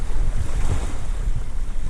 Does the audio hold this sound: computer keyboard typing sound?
no